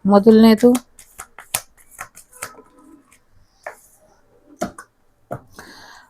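Tarot cards being shuffled and laid out during a weekly reading: a brisk riffle at the start, then scattered soft snaps and slaps of cards placed down, with a voice talking over part of it.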